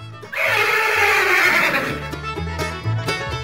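A horse on a farm gives a loud, drawn-out neigh lasting over a second, then lower snorts and grunts with steady background noise continuing.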